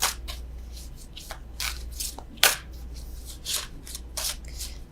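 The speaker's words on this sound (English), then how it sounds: "I don't know why I'm still shuffling these." Tarot cards being shuffled by hand, a run of crisp riffling and flicking bursts with short pauses between them, close and fairly quiet over a low steady hum, with no talking.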